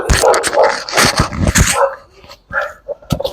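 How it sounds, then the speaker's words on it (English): A dog barks repeatedly, loud and close, in quick uneven bursts with some whimpering yips in between. "there's always a dog or something that comes on"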